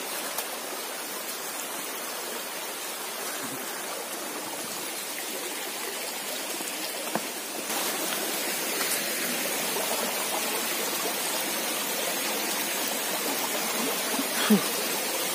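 A forest stream flows steadily in the woods, a continuous close rush of water with a broadband wash that stays even throughout, with no voices.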